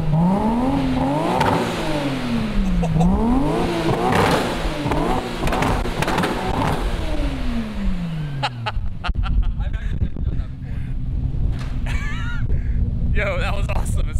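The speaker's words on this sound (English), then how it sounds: "We got a 180SX over here revving up." Nissan 180SX engine revved several times in rising and falling sweeps over about eight seconds, loud and close in windy outdoor air, then dropping to a lower steady note while people talk nearby.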